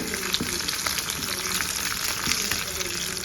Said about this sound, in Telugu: ఇప్పుడు పోపు అయితే వేసేసుకున్నాము